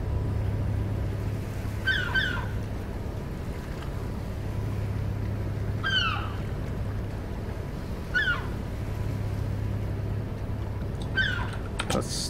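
Tug boat engines in European Ship Simulator, a steady low drone running throughout, with bright chirping calls like gulls breaking in every few seconds; no talking.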